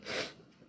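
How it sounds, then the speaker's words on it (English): A single close, soft sneeze bursts out briefly, then fades into quiet breathing. "I have to sneeze."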